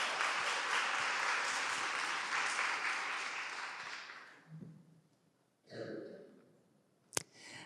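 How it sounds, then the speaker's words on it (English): Seminar audience at a Nordic arts and culture diversity event breaks into sustained, dense applause for about four seconds, then it fades out, leaving a few scattered claps, a brief murmur and a sharp knock near the end. "Big applause for you"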